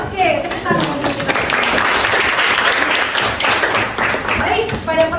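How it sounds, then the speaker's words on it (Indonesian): A classroom of students breaks into loud, sustained applause, dense clapping that fills the room, with children's voices and a teacher speaking over the start and end. "Oke, tepuk tangan untuk kita."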